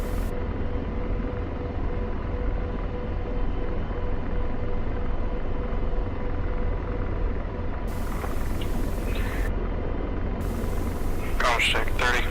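A Chinook helicopter's engines and rotors in DCS World make a loud, steady broadband roar with a constant low rumble throughout, and voices talk over it near the end.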